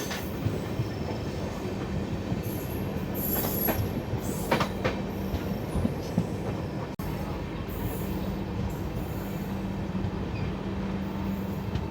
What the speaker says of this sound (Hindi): दोस्तों अपनी गाड़ी अब पहुंच रही है अपने पहले स्टॉप किशनगढ़ में।